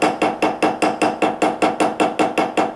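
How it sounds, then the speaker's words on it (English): A hammer strikes a soft wire rivet on a bangle bracelet, flattening and mushrooming it: about fourteen sharp, evenly spaced metallic taps at a brisk steady rhythm, close and loud with no talk. "Once you have it mushroom down enough, you can flip the hammer and hit it down with the head"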